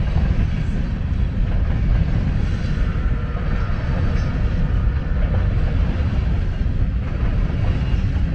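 A westbound CSX freight train hauled by BNSF locomotives rolls past with hopper cars, a loud, continuous rumble and clatter of wheels on rail that stays steady and close throughout.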